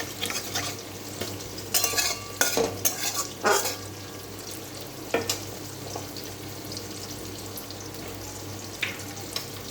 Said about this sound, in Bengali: মশলাগুলো দিয়ে নিই। জিরেটা হালকা লাল হয়ে যাক।